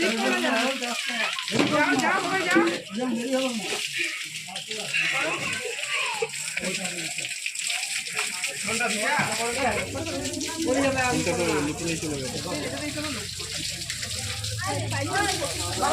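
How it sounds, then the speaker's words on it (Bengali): A stream of water falls constantly at Susunia hill, a steady rushing gush heard close and loud throughout, with people talking and voices of children over it. "এখানে এই ধারাতে সবসময় জল পড়ছে"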